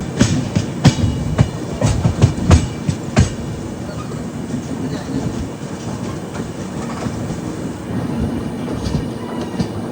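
A train rolls into Palakkad station with rhythmic clickety-clack of wheels over rail joints, the clatter easing into a steady, slower rumble as it nears the platform.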